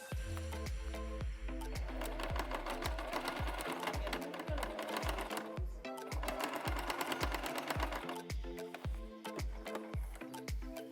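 A sewing machine stitches along the folded sides of a fabric bag, its needle running in a fast, steady, loud mechanical rhythm that pauses briefly and starts again.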